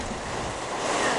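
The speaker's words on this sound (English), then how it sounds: "It is pouring. You can't even see." Heavy rain pours down on a car during a storm, a dense, steady hiss of water drumming on the body and glass that swells slightly louder toward the end, with no voices.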